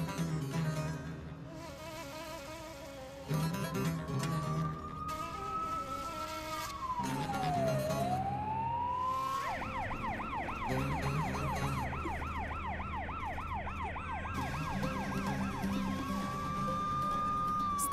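Wailing ambulance siren in a Turkish drama scene, a slow rising-and-falling wail that then switches to a fast warbling yelp, loud and continuous over background music, with no talk.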